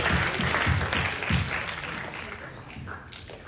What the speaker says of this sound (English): Let's make an applause for Jacobo, please.